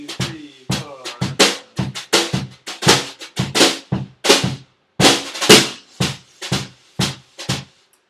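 A drummer plays a 3-over-4 polyrhythm with the four-note triplet started after the downbeat, crisp separate hits in a layered, uneven pattern, up close and clear with brief gaps between groups.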